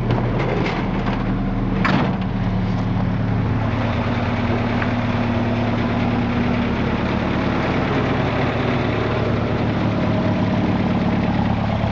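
A 1984 Jeep DJ-5M engine with a side-exit exhaust pipe idles steadily nearby. The low rumble stays even and continuous, with a few brief clatters near the start.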